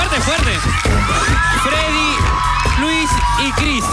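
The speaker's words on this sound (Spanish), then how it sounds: "¡Un fuerte aplauso! Un fuerte aplauso para Magic." A live-show audience roars with cheering, whoops and shouts, loud and sustained, with individual voices rising out of the crowd noise.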